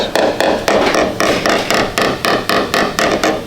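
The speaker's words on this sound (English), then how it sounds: "we're going to tap that down and just sand off those bits of silicon brass that are on there" Hammer blows tap down high spots on a Toyota Land Cruiser 79 Series steel body panel during dent repair, about a dozen sharp, evenly spaced strikes ringing close and loud with no talking.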